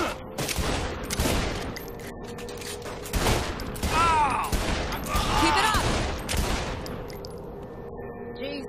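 Gunfire in Saints Row The Third as enemies are shot, rapid bursts of loud close shots in clusters with short pauses between them, spread across several seconds with game sound effects mixed in.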